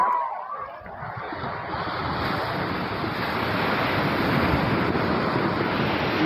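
Sea waves roll in at Digha beach, a broad, continuous roar of surf that swells steadily, with some wind buffeting the microphone.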